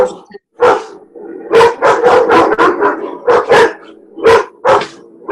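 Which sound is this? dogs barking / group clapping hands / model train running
dogs barking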